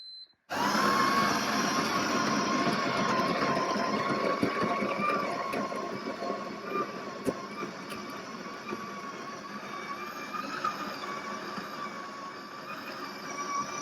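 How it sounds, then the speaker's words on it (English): A Ninja Luxe Cafe Premier Series coffee machine grinds coffee beans with a steady, loud mechanical whir that starts abruptly and runs continuously, close by, with no talking. "I'm just going to leave it on the middle and I'll press start grind."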